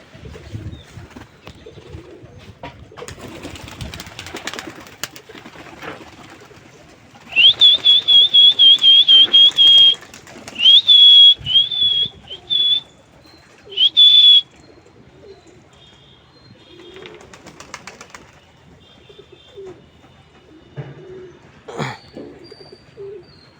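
Pigeons kept on a rooftop coop during days of heavy rain call amid scattered rustling, with a run of clear, high whistling notes in the middle and quieter sounds before and after.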